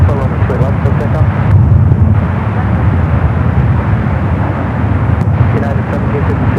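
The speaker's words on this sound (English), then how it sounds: "757-200 flight heading to Newark." A United Boeing 757-200 bound for Newark takes off at San Francisco airport, its engines producing a loud, steady broadband roar that holds throughout while tower radio chatter continues over it.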